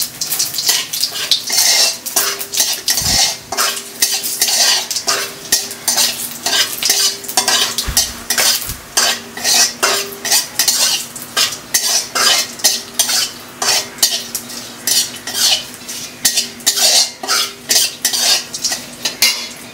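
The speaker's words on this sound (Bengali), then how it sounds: "সাদা জিরে এখন আমি পরিমাণ মতন সাদা জিরে সম্বরা দিয়ে দিলাম" White cumin seeds sizzle in hot oil in a pan while a utensil stirs them, rapid rhythmic scraping and clinking strokes repeating steadily over a soft frying hiss, close and fairly loud.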